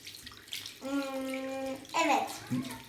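Water runs from a tap while hands are washed for about twenty seconds, a steady splashing stream at close range, with a voice talking over it in the middle and again near the end.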